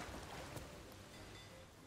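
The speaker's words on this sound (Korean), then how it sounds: "근데 비가 오는데" Steady rain in the pirate video game Sea of Thieves, a continuous hiss of falling water with a faint roll of sea beneath it and no voices.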